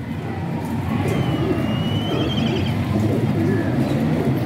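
A teddy-type flying pigeon held in the hand coos in soft, repeated low throbbing phrases that recur steadily through the clip over a constant rushing background.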